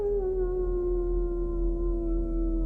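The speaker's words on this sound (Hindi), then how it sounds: "फिर अचानक एक कुत्ता घर के बाहर आकर रोने लगता है।" A dog howls outside a house in a horror-story scene, one sustained, slowly falling wail that stays steady and fairly loud throughout.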